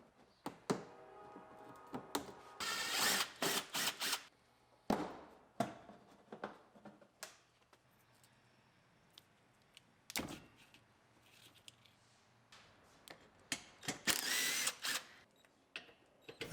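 Rear bumper being pulled off a rust-covered GMC Yukon: bursts of metallic clanks, thunks and ratcheting tool noise come in irregular clusters, with quiet gaps between them, close and moderately loud.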